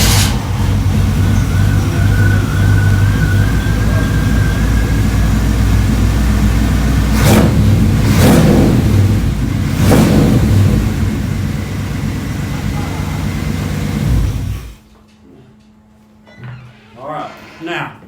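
A big fire truck engine, loud and close, roars at a steady idle and then surges through several sharp revs, later cutting off abruptly into quiet with faint sounds remaining.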